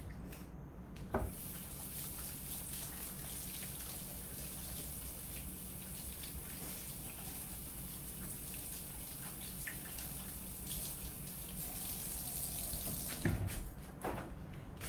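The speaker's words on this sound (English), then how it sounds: "I need to wash my hands real quick one more time." Hands being washed under a running kitchen tap, a soft steady splashing stream of water continuing throughout, with a couple of brief knocks near the start and end.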